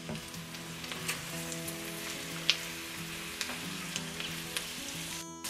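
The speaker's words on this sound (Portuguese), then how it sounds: "pode deixar fritando por 1 minuto" Steady, close sizzling of sausage and onion frying in a pan, a continuous crackling hiss with occasional sharper pops and a low hum underneath.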